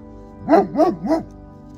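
A dog barks three times in quick succession, close by at a desert campsite in Anza-Borrego, with a slightly whiny, yelping tone.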